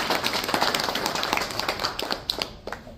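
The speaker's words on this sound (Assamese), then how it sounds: "আমি এবাৰ আকৌ সকলোৱে হাত চাপৰি বজাই দিম।" An audience claps together in steady, dense applause at a ceremony, a continuous wash of hand claps that thins slightly toward the end.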